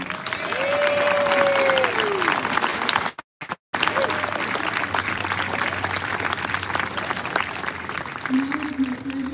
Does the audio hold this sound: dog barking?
no